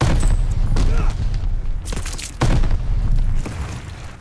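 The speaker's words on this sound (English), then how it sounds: "Sticky bomb out!" Sticky bomb blasts in Call of Duty: Vanguard hardcore search and destroy, a series of loud booming thuds and crackling gunfire bursts spread across a few seconds, with voices talking in the mix.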